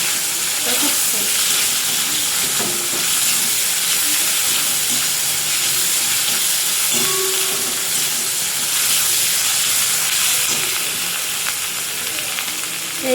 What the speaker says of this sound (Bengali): এটা ভালো করে কষাবো যতক্ষণ না আদা রসুনের গন্ধটা যাবে ততক্ষণ।